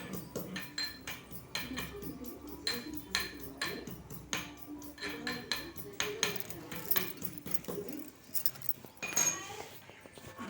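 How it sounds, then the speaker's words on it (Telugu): Ginger and green chillies being pounded in a kitchen for a soybean and potato curry, a steady run of sharp knocking strikes with metallic clinks, close and fairly loud, with no talking. "బాగా వేగాక ఇగో అల్లం పచ్చిమిర్చి దంపుతున్నాను."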